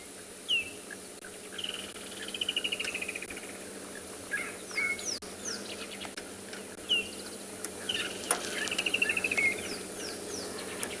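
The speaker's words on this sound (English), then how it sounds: "Oh, I can even hear a foam nest frog in the background." A foam nest frog calls in the background during a sunrise safari, its faint, distant, repeated chirping woven among steady insect buzz and birdsong.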